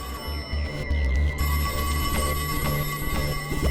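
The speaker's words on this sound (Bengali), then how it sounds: "ওহো, আবার ফোন।" A telephone ringing with a sustained, bright bell tone that repeats in short bursts, loud and close, with no voices over it.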